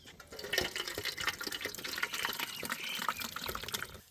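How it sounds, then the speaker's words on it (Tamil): Tamarind extract is poured over fish for a fish curry, a close, splashing trickle of liquid with small gurgles and drips that runs on for a few seconds at moderate loudness. "ஒரு பெரிய எலுமிச்சை அளவுக்கு புளி கரைசல் மீனுக்கு எடுத்தவொடனே புளி கரைச்சல் சேர்த்துக்கிறோங்க"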